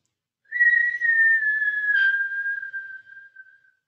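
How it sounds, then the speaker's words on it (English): A single long whistle made while inhaling through puckered lips during a breathing exercise, a steady, slightly falling tone held close and clear for about three seconds, alone without talk. "You're going to inhale through a puckered mouth with a whistle."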